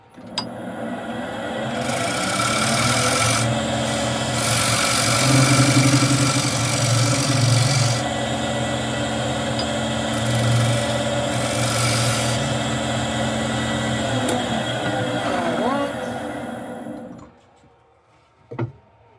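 Skew chisel cutting black walnut spinning on a lathe for a cookie jar, a continuous close scraping hiss over the motor's steady hum, with brief pauses in the cut before the machine winds down at the end.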